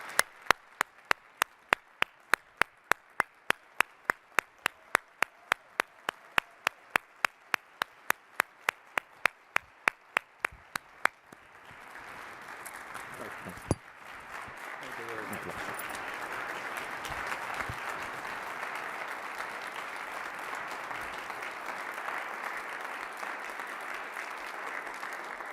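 An investiture ceremony audience applauds two honorees, beginning with steady sharp rhythmic claps from a single nearby person. A broad, sustained wash of crowd clapping then swells in and continues to the end.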